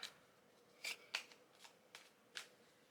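A deck of cards being shuffled, several quick soft riffling bursts spaced irregularly over a few seconds, close and quiet against a faint background.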